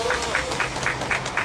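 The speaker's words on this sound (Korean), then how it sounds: "힘찬 발언해주신 이수종 동지께 다시 한번 큰 박수 부탁드립니다." Audience at a candlelight protest rally for striking Jaeneung union workers applauds, a steady wash of many hands clapping with rhythmic bursts, fairly loud and continuous without talk.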